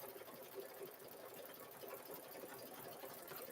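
An embroidery machine stitching a zipper bag in the hoop, producing a steady, fast mechanical whir and needle chatter that stays faint but continuous throughout, with no talking.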